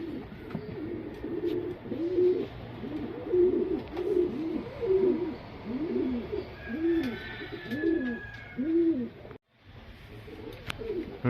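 A pair of Kalanka pigeons cooing in a steady repeating rhythm of soft, low rolling coos, close and moderately loud over faint background noise, with no talk.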